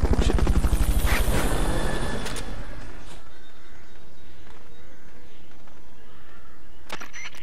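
Loud rhythmic chopping of a helicopter's rotor in a video game, beating strongly for about three seconds before fading into a softer steady hum, with a couple of sharp clicks late on.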